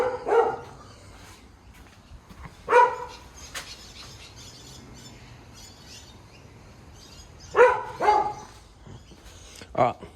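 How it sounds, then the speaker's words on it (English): A dog barking in a garage where a car's manifold and intercooler piping are being removed: a few sharp barks in two short clusters, fairly near, with a low background hum and no talking. "sorry about the dog"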